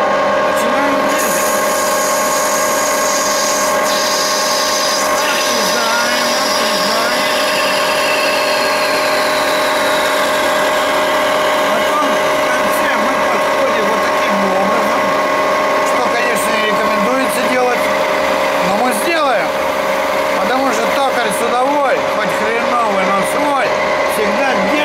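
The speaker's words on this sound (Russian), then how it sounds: "И начинаем отрезать. Для отрезания мы включим больше обороты. Потому что на малых оборотах крошится эбонит." A 16P25B metal lathe runs at high speed parting off a piece of ebonite, a loud sustained whine of motor and gearing with shifting tonal sweeps of the cutting, continuous for the whole stretch while someone talks intermittently over it.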